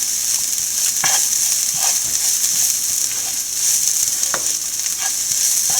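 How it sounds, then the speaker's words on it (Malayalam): Green chilies and onions sauté in a pan with a bright, continuous sizzle up close, interrupted now and then by soft scrapes and taps of a stirring spoon. "പച്ചമുളകിൻ്റെയും ഉള്ളിയുടെയൊക്കെ ഒരു പച്ചമണം മാറുന്നിടം വരെ വഴറ്റി കൊടുത്താൽ മതി"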